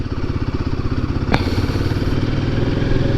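A Royal Enfield Himalayan motorcycle engine runs at a steady, loud thumping rhythm close by, with a single sharp metallic clack partway through.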